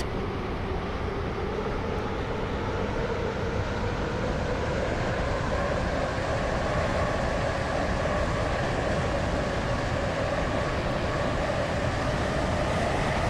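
A two-coach train in Roblox Stepford County Railway runs at speed, a continuous dense rumble and rail roar with a slowly rising hum, steady and close.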